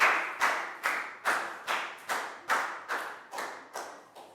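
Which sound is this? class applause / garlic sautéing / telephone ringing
class applause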